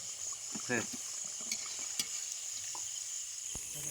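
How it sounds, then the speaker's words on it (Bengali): Chicken singara fry in oil, giving a faint, steady hiss with a few light clinks and scrapes as they are lifted out. People talk quietly nearby. "আমাদের সিঙ্গারা ভাজা কমপ্লিট এবার আমরা তুলে নেব"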